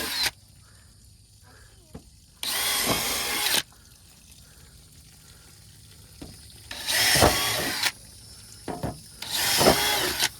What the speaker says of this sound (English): going to drill some holes in here